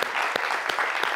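Studio audience clapping for a chef on a French morning television show, a dense continuous patter of many hands with a few sharper claps poking through, fairly close and steady.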